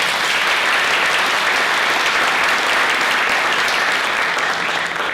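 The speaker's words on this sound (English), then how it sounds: "if you could give a round of applause to the great panel we have" A conference audience claps for an opioid crisis panel, a loud, dense and continuous round of applause filling the room and holding steady from start to end.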